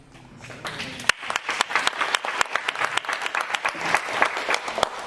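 Applause starts up and builds, with sharp individual claps standing out from a room full of clapping hands.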